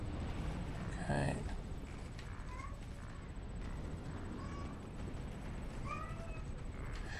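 A house cat meows several times in the background, short faint calls scattered over steady room noise.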